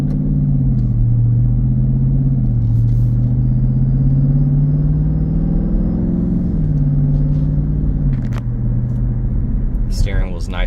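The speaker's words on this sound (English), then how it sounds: "Exhaust sounds really good." Deep, steady exhaust drone from a 2023 Dodge Durango SRT 392 on a test drive, heard from inside the cabin as the engine note rises and falls slightly under light throttle, with a brief higher sound near the end.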